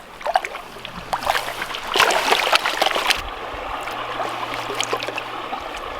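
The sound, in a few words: washing dirt in water to find gold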